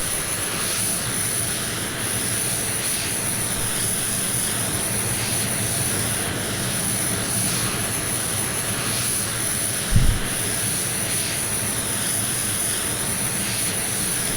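An F-22 Raptor taxis in the Prepar3D flight simulator at RAF Coningsby. Its jet engines give a steady, loud whine and rumble throughout, with one short low thump partway through.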